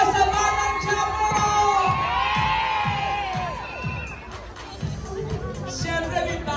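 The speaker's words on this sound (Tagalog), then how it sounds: "Sumigaw ang mga babae! Natutuwa sa Batang Quiapo!" An outdoor crowd of women at the Philippine Festival in Yoyogi Park, Tokyo, screams and cheers excitedly in loud, overlapping high-pitched shrieks with chatter underneath.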